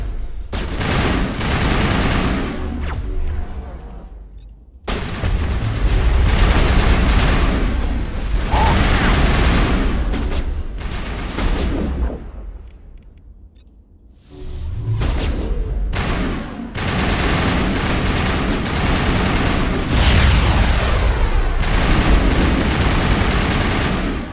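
Gunfire in the game Mass Effect Legendary Edition comes in sustained loud bursts of rapid shots and booms, broken by a few short lulls, with a voice speaking at points.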